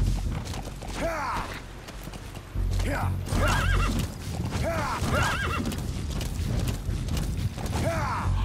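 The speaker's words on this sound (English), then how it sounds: "Whoa, horse!" A horse whinnies several times over steady clip-clopping hooves, with a voice calling out in between, in the video game Metal Gear Solid V: The Phantom Pain.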